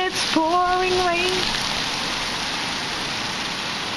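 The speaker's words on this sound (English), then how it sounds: "It's pouring rain." Heavy rain pours down outdoors beneath a big thundercloud, a dense, steady hiss that lasts throughout. A voice speaks briefly near the start, over the rain.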